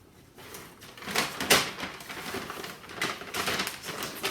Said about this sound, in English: I know there's going to be some crinkling noises in here